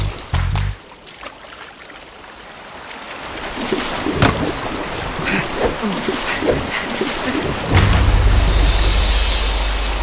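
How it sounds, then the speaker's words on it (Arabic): A raging Nile waterfall in a cartoon gives a broad, continuous rush of water that swells and grows louder, with deep booms near the start and toward the end. "استمروا بالتوجه إلى اليمين إذا ما أردتم تفادي شلال النيل الهائج"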